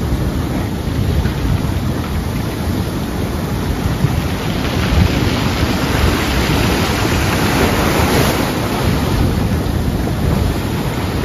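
Rough sea waves at Vizag beach: loud, continuous surf roar with heavy wind buffeting on the microphone, close and unbroken.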